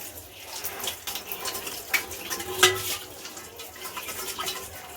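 Fish rinsed under a running tap: steady splashing water with uneven sloshes and a few sharper splats, close and moderately loud, with no talking.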